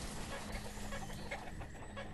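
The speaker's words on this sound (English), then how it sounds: "It was the chickens being rowdy." Chickens cluck in a busy, overlapping flock in the Banished village-building game, scattered short calls over a steady low hum of game ambience.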